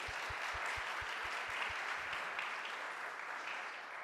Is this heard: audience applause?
yes